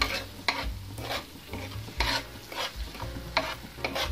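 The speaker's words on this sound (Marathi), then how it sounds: "आता आपण याच्यामध्ये टोमॅटोची प्युरी टाकणार आहोत। मिक्स करूया।" Tomato puree stirred into hot oil in a pan while cooking palak paneer, with soft sizzling and repeated scraping stir strokes at a steady rhythm, close and moderately quiet, no talking.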